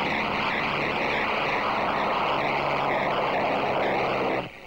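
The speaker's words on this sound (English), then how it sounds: "The remainder take off at 45-second intervals." A 1930s propeller airplane runs up for takeoff in the 1934 London to Melbourne air race, a loud, steady engine drone with a throbbing propeller note that holds constant, then cuts off abruptly near the end.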